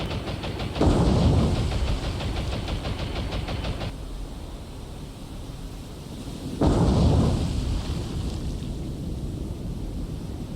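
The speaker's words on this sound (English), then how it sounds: "Both torpedoes hit, fires have started" In a World War II naval combat game, two heavy torpedo explosions hit ships several seconds apart, each a loud deep boom that rolls into a long rumbling roar.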